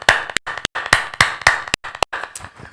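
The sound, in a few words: congregation clapping to thank God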